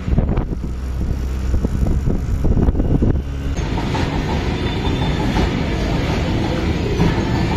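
Suburban commuter train rolling on rails from Dombivli station, a steady loud rumble with wind noise and faint clickety-clack that builds and holds close throughout.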